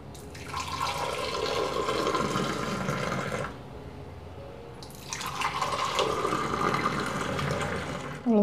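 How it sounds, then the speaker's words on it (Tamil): Ginger tea poured from a height in a home kitchen, a loud continuous splashing stream that pauses briefly and then resumes, close and steady. "நிறைய டீ அப்படி தூக்கி ஊற்றணும்"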